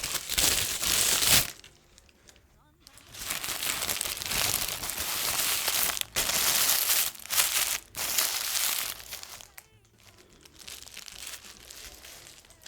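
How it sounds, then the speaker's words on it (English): Tissue paper crinkles and rustles close up in several loud bursts separated by quieter handling pauses while wrapping a homemade yarn Advent calendar stocking; no talking. "I just grabbed an extra piece of tissue paper that I had."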